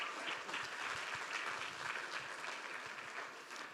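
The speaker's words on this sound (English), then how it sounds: "So a big round of applause for the DG Mare team." A round of applause from the audience at an EU policy conference on coastal communities in Brussels, many hands clapping in a continuous wash that is moderately distant and fades slightly at the end.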